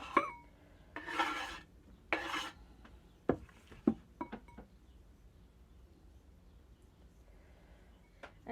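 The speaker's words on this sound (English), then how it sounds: "And just mix in your onion with your cheese so that it's all evenly distributed" Chopped onion being mixed into cheese in a bowl, heard as a few close rubbing, scraping stir strokes and light clinks in short bursts, followed by quieter pauses, with no talking.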